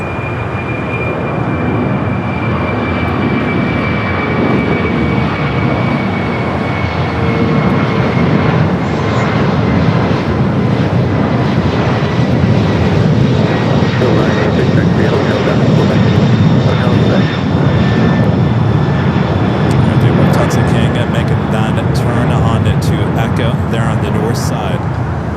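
An airliner in Avengers livery takes off from the south side of LAX, a loud, sustained jet roar building and holding steady throughout, with a whining engine tone above the rumble.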